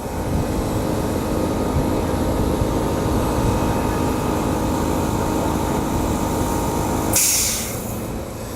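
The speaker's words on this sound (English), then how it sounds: "1-to-1 caulking gun, air operated, because you don't want the guys squeezing with their hand all day." An air-operated 1-to-1 caulking gun dispensing MMA grout, a continuous loud hiss of compressed air with a sharp, brief blast of air near the end.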